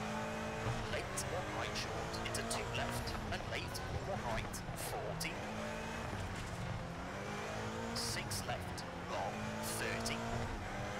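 A rally car in the racing game EA WRC, driven in career mode, roars through a stage with its engine revving and shifting, tires scrabbling and brief squeals and knocks, loud and continuous under a player's talk.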